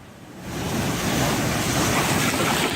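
Big ocean waves roll in and crash as a loud, continuous roar of surf that swells after a quieter start, with wind buffeting the microphone.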